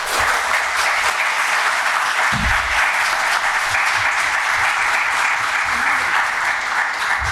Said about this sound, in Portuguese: a qual eu peço uma grande salva de palmas